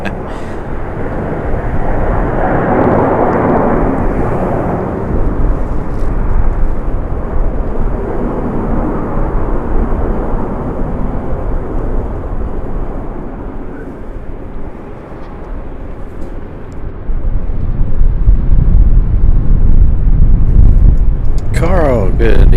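Airbus airliner jet engines roar loud and sustained at Raleigh Durham airport, a broad continuous rumble that swells toward the end.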